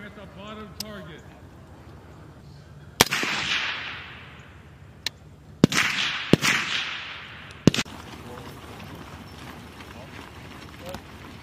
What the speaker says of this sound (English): Line is hot. You're firing at the bottom target.